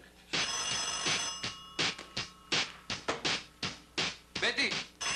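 An old telephone ringing indoors in a Greek comedy scene: a repeated bell rings in short bursts, with voices talking over it.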